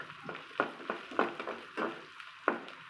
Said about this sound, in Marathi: आपण परतून घेतोय.